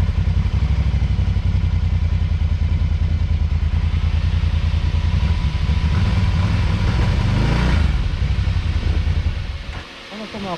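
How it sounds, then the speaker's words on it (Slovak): A 1000cc ATV engine, a CFMOTO Gladiator X1000 or TGB Blade 1000LT, runs loud and close at a steady idle, rises in a brief rev, then drops off near the end. "Ono to má pekný zvuk motora."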